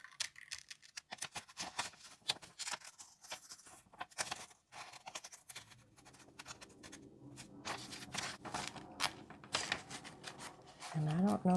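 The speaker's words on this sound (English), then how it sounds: "I think I might need to move to the smaller scissors." Quick snipping and crisp paper rustling from small scissors cutting thin magazine pages, steady rapid cuts close up, with a soft voice talking over it.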